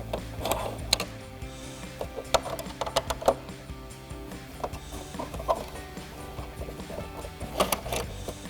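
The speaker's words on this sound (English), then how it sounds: "Now we need to take a T15 Torx driver and remove all of these T15 screws holding this black plastic in." A Torx driver backing out T15 screws that hold black plastic trim on a 2024-2025 Ford Mustang, with quiet ratcheting clicks and small tool ticks coming in scattered bursts, close up and with no talk.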